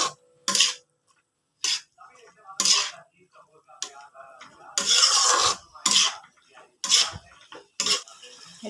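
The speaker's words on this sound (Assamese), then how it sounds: "আৰু ইয়াতে এতিয়া কুটি থোৱা লাওখিনি দি দিম আৰু ভালদৰে লৰাই দিম।" A spoon stirs chopped bottle gourd with fish and tomato in a pan, making short, loud scraping and clattering bursts separated by quiet gaps, repeated about a dozen times up close.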